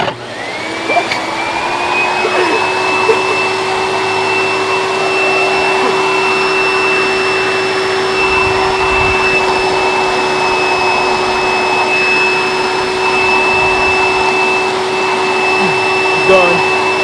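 A Hoover Dimension Supreme vacuum cleaner runs steadily and loudly from start to finish, a constant motor drone with a high whine that holds throughout, with no break in the sound.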